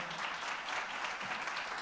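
Applause from a conference audience at a Colombian digital health forum panel of CEOs and CIOs, a dense steady wash of many hands clapping throughout, with no other sounds standing out.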